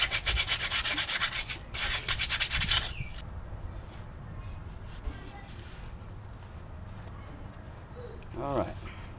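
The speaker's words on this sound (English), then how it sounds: "I use 200 sandpaper to sand right here." Vigorous back-and-forth rubbing of 200-grit sandpaper scrubbing rust off a metal shaft during bearing work on a 2007 Ford F150, loud for about three seconds, then fainter scraping and light handling noises with brief muffled sounds near the end.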